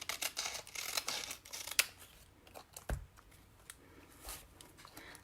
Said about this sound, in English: And then I'm going to trim the ends.